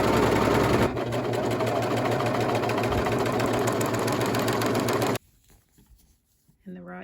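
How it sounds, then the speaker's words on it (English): A sewing machine stitches along a fabric seam allowance on a maxi dress, a loud, steady rapid mechanical whir that stops abruptly, leaving quiet rustling and a brief voice at the end. "you will go to your sewing machine and you will sew along the seam allowance only"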